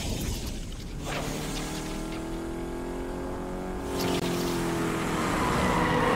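Racing cars in Need For Speed Unbound, engines droning and revving steadily with rising pitch sweeps as gears shift, growing slightly louder toward the end, close and continuous.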